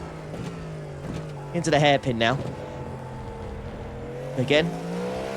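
A race car engine in the iRacing sim hums steadily and then surges in two rising revving bursts, with a brief third swell near the end, while someone talks over it.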